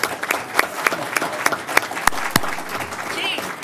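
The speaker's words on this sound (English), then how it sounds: "How about a round of applause for our own cheerleader?" Round of applause from the audience at a city council meeting, a dense spread of individual claps across the room, fairly close and steady for several seconds, with sharper single claps standing out and some voices underneath.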